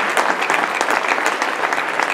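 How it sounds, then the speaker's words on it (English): A Rotary club meeting audience claps for Sonny White, dense steady applause from a room of people, loud and close, lasting the whole moment. "Everybody clap for Sonny White."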